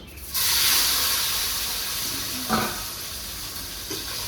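Boiled potatoes go into hot oil, and a broad steady sizzle and hiss rises sharply and then holds at a fairly loud level, with a few faint clinks partway through and no talk.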